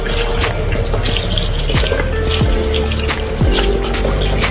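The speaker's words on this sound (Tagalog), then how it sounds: "yung ulan ay tuloy-tuloy pa rin" Continuous heavy rain in an outdoor setting, a dense steady wash of noise with scattered drips and spatters, loud and unbroken, with a few low tonal sweeps passing underneath.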